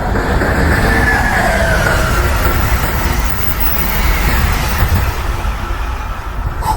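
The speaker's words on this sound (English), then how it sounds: "there's gonna be a train that passes, so don't mind the loud noise." A train passes close by outdoors, a loud continuous rumble and rolling rail noise that swells and holds for several seconds without speech.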